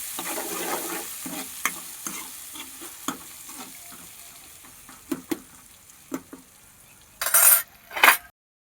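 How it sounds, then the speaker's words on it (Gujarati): Green peas and poha are stirred together in a pan over low heat, with a quiet fry under repeated spoon taps and scrapes, ending in two louder clattering scrapes. "પછી લીલા વટાણા નાખી દેવાના। હવે આપણે એને મિક્સ કરી લેવું આ રીતનું।"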